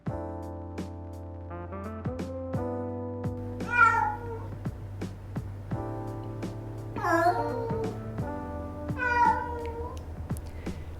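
A stray cat rescued from a parking lot in Saitama meows and yowls several times in drawn-out, wavering cries over a backdrop of steady tonal music.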